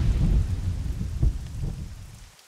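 A thunderstorm with heavy rain, steady rainfall under deep, rolling rumbles of thunder that swell and fade across a couple of seconds.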